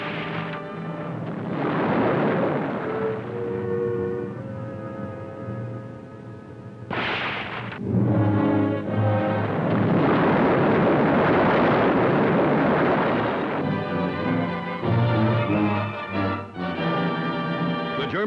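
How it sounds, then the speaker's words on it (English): Small depth bombs thrown from a destroyer explode around a German ship at sea. Several heavy booming blasts follow one another over a loud, rumbling newsreel soundtrack. "then small depth bombs are hurled at it from the destroyer"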